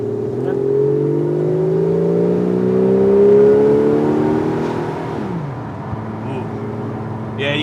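Ferrari 412 with a Turbo 400 transmission pulls hard, its engine note rising steadily in pitch, then dropping abruptly as the gearbox downshifts before climbing again, loud and close throughout.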